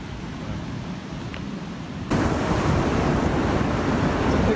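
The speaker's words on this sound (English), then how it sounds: "I wonder if that wave's gonna come in this little tide pool" Ocean waves reach a small tide pool on a rocky shore. Steady wash and wind noise build into a sudden louder rush of surf that keeps up a broad, continuous roar, with no voices.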